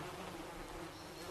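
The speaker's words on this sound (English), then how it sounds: "Tudor bees were kept in skeps, upturned wicker baskets." British black bees buzz steadily around an upturned wicker skep hive on a Tudor-style farm, a dense, continuous hum of many insects close by.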